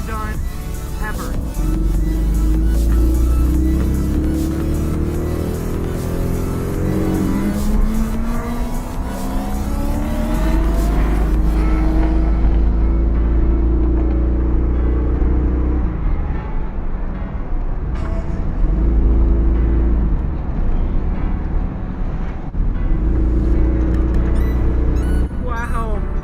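A car is driven on a race track at a rally event. The engine sounds loud and steady throughout, with repeated rises in pitch as it accelerates and shifts through gears, and a voice is heard faintly over it.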